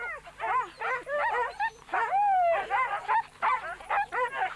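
A team of twelve sled dogs yips, barks and whimpers excitedly in overlapping bursts, one longer howling whine rising among them, fairly close and continuous.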